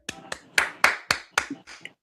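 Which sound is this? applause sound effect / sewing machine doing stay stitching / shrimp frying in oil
applause sound effect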